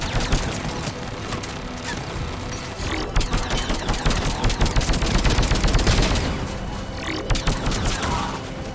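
Rapid bursts of turret and weapon fire in the sci-fi shooter Mass Effect 3, dense and continuous with overlapping shots and explosions, loud throughout.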